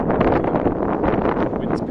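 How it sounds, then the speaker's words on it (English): Wind rushes across the microphone outdoors at a house in Bulgaria, a steady, loud broadband roar with slight gusting fluctuations. "Wind's picking up."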